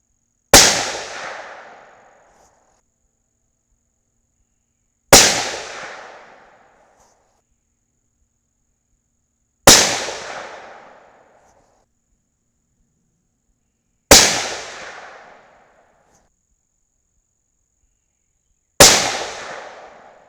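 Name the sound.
rifle shots from T/C Compass 6.5 Creedmoor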